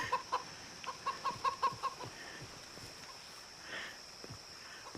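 A video game chicken gives a quick run of sharp, rhythmic clucks, then a couple of scattered softer ones, over a steady hum of game background sound. Nobody speaks.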